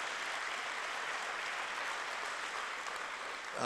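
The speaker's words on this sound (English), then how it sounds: "Let's give a round of applause to our parents, family members, boyfriends, girlfriends, and others that supported you guys" Steady, dense applause from a crowd at a graduation ceremony, a broad even wash of clapping that holds throughout and swells slightly at the end.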